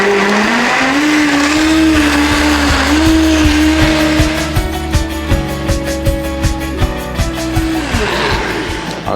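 A Vitamix blender crushes ice for a lychee ginger smoothie, its loud motor whine climbing steadily from low speed to full power, with rhythmic thumping as the ice and contents churn close by.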